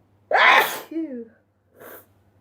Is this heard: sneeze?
yes